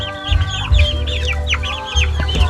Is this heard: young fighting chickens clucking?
yes